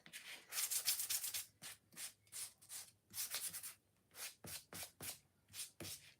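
Fine 400-grit sandpaper rubs back and forth in quick bursts, a raspy scratching stroke repeated in an uneven rhythm close by, with brief pauses.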